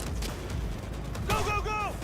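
Gunfire in the video game Cyberpunk 2077, with dense rapid shots and mechanical clatter in a busy combat mix, while a voice speaks briefly over the noise.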